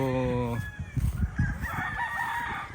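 Young pullet chickens on a range cluck and cheep in quick, close bursts, with a short crowing-like call at the start and someone speaking briefly over them.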